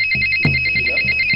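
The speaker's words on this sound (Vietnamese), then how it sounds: "Cái điện thoại." A mobile phone ringtone plays a loud, steady electronic melody with sustained high tones, continuing throughout alongside low rhythmic thumps.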